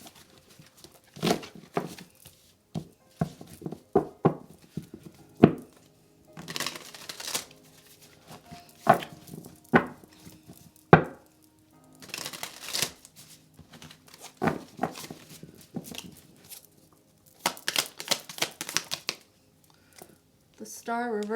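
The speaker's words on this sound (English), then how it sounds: "I'm going to shuffle again" Tarot cards are shuffled in bursts of quick riffling and slapping, with short pauses between them, close to the microphone. A person speaks in between.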